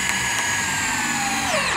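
Power drill driving a self-drilling (alto brocante) screw into concrete formwork, a steady loud motor whine with a falling pitch near the end as the screw seats, continuous and close with no talk.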